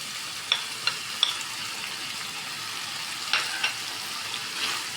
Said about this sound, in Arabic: ها هو تشحرنا لادانت